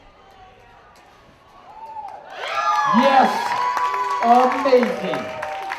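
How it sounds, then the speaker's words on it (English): A live audience at a county field days juggling show bursts into clapping and cheering that swells and holds loudly, mixed with whoops and shouting, while a performer calls out over it. "You clapped that much."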